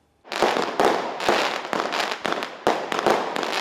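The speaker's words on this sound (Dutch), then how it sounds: "De bewoners kregen daar een privé vuurwerkshow en net iets eerder dan verwacht." A private New Year's fireworks show at a care home in Middelburg: a rapid run of loud, close bangs and crackling bursts, one after another with no pause.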